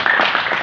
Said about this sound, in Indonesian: Tepuk tangan dulu sama dia.